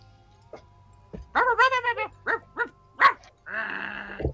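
A dog with a surprisingly high-pitched bark for a mastiff gives several short, yappy barks close up, then a longer whiny yelp, with faint background hum.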